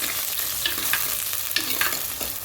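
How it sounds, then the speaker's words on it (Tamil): Sliced onions and curry leaves sautéing in a hot pan: a continuous sizzle broken by several quick scraping stir strokes of a spatula, close and clear, with no talking. "2 பெரிய வெங்காயம், கருவேப்பிலை ஒரு கொத்து போட்டு நல்லா வதக்கிக்கோங்க"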